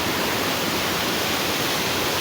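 The Fol stream rushes toward the Black Sea near Canikdere waterfall in Tonya, Trabzon, a loud, steady broadband roar of churning water with no pauses, filling the whole clip close by.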